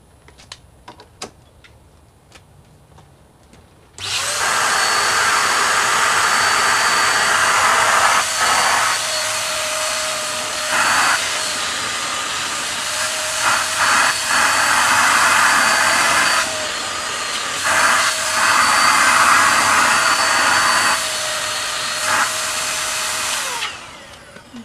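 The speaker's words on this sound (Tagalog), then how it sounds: "And we need a vacuum." A household vacuum cleaner runs for about twenty seconds, sucking the air out of a plastic storage bag packed with bulky winter clothes, a loud steady whine that shifts slightly in pitch before cutting off.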